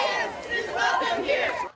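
Street protesters at a March for Science chant together, a loud, dense wall of many voices that swells and rolls for under two seconds before cutting off abruptly.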